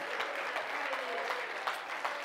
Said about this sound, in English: clap your hands and praise Him